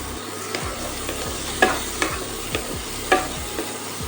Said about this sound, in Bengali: খুব লাল লাল করে পেঁয়াজটাকে ভেজে নিতে হবে বেরেস্তার আকারে।